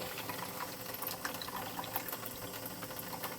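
Water runs steadily from a tap while a glass rose globe is cleaned and refilled, a continuous close hiss and splash with no talk.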